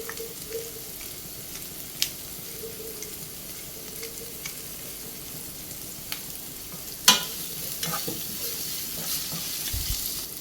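Egg mixture with pepper being stirred in a pan for a cheese garlic egg sandwich, a soft steady sizzle with scattered light scrapes and one sharper clink of the utensil.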